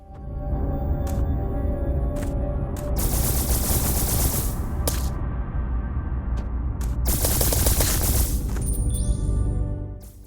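Rapid gunfire in the run-and-gun game Before I Go crackles in dense bursts and sustained fusillades over a rumbling game soundtrack, with sharp electronic effects near the end.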